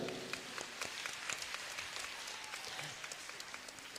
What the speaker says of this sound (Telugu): ఒకసారి గట్టిగా క్లాప్స్ కొట్టిన గట్టిగా